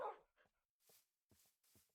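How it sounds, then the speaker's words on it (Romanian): A dog in Minecraft gives a few short, quiet barks and yips in an uneven rhythm, separated by brief silences, sounding faint and somewhat distant. "Am auzit eu cățelul?"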